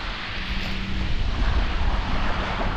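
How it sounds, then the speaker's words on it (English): Wind gusts buffet the microphone on a gloomy morning by the sea at Folkestone Rotunda, a continuous rumbling roar that swells and eases with no voices. "Wind's picking up."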